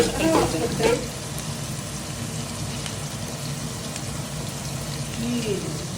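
Tomatoes frying in a pan for a kuzhambu curry make a soft, continuous sizzle and crackle, partly masked by someone talking nearby.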